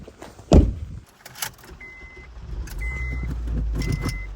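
A truck engine cranks and starts after a thud and key jangling, then settles into a low steady idle that builds slightly, fairly close, with faint high whines over it.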